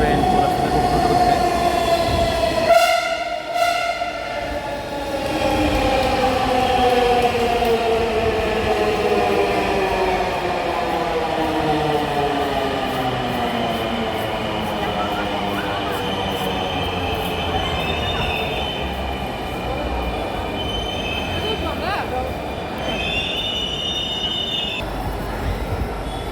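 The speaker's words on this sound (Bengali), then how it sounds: "আপনারা দেখেছেন খুব দ্রুত গতিতে মেট্রো রেলটি চলে এসেছে।" A Dhaka metro rail train arrives at an elevated station and passes close by, its loud rising whine and rumbling wheels sweeping past in a long continuous roar, with a squealing tone and fading rumble toward the end.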